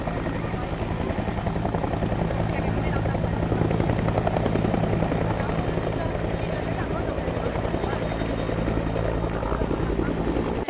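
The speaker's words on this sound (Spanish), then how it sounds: "El helicóptero." A firefighting helicopter at a brigade exhibition in Cabañeros drones steadily with a dense rotor chop throughout, loud and continuous, while voices talk faintly underneath.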